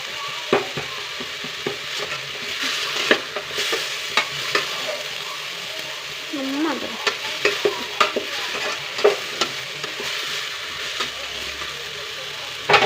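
Masala sizzling and being stirred in a pan for sprouted horse gram sambar, a continuous close fry with frequent scraping clicks of the spatula and a faint voice now and then.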